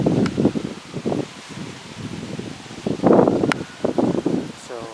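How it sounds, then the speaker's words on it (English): A breeze gusts outdoors at midday, rustling and buffeting the microphone in uneven bursts beneath a nearby voice that talks throughout. "I know it's a bit breezy, but there's nothing we can do about it."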